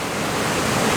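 Heavy rain pours down outdoors near a sea cave on the Juan de Fuca coast, a steady dense broadband hiss that stays loud and constant throughout with no talking.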